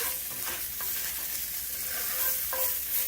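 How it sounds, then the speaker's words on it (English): Chopped garlic sizzles steadily in a hot skillet while being stirred, a continuous bright hiss with occasional scraping strokes, loud and close with no talking. "we are going to add 5 cloves of chopped garlic to the skillet. We're going to stir that around really quick, get it cooking"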